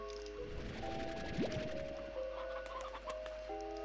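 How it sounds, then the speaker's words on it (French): Chickens cluck in the video game Slime Rancher, a few soft fowl calls and a rising chirp over sustained game music tones, faint and low in the mix. "Il y a des poules ici."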